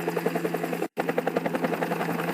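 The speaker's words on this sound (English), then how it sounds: "The helicopter noise should have been less" AI-generated helicopter noise, a loud rapid rotor chop with a steady thudding pulse, briefly cut out for a split second before resuming.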